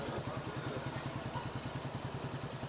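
Motorcycle engine running steadily after starting, with water poured near the spark plug to show it keeps going; a continuous, even idle throb close by, no talk.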